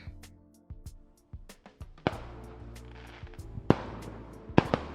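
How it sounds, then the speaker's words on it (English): Fireworks going off in a survival video game: a string of sharp pops and crackling bursts, several bright bangs spaced irregularly over a low sustained background, with a couple of louder explosions near the end. "I've never done fireworks before, so we're both going to see how this goes"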